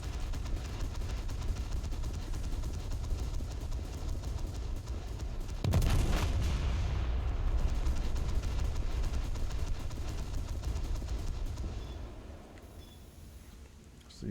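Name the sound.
warship turret guns firing a broadside in a naval video game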